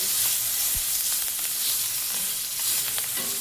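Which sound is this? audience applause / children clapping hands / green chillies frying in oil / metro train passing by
green chillies frying in oil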